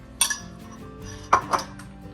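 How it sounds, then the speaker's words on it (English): A spoon stirs enchilada casserole ingredients in a dish, clinking against the side in a few scattered metallic knocks and scrapes, with two brighter clinks near the end, close and alone without talk. "So we're going to mix that all up."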